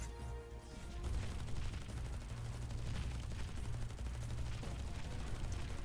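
Rapid gunfire from the 6 gun unit in the Transformers Earth Wars mobile game, a dense, sustained barrage of overlapping shots with battle effects filling the whole stretch, loud and continuous without pause.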